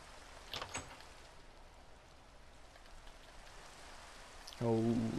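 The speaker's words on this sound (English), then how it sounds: "Holy crap, it's rainy." Steady rain falls in the Minecraft game world as a soft, even hiss under quiet play sounds, ending with a brief louder tone.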